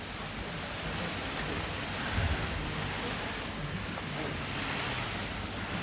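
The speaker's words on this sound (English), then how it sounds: "The rain's picking up slightly." Steady rain falls during a thunderstorm, a dense even hiss with puddles forming and leaves coming down, heard alone at moderate level with a faint low rumble partway through.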